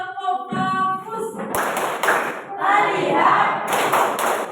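A classroom group claps a rhythmic 'tepuk fokus' routine, bursts of claps and taps alternating with pauses, close and moderately loud with some voices mixed in.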